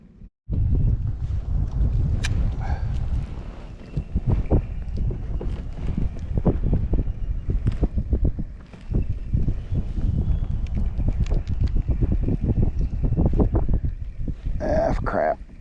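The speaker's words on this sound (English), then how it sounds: "The wind whipped up again." Strong wind buffets the microphone during kayak fishing at Carter Caves, a loud, constant rumbling roar with gusting bursts and faint splashes and movement on the boat.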